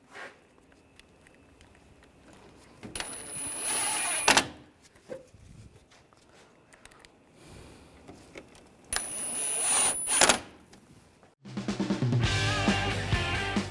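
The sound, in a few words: screws being tightened on VW Tiguan bumper cover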